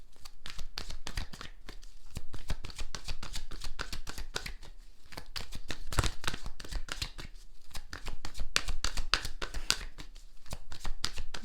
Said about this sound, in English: Let's just pick up a spirit message deck and take a card out.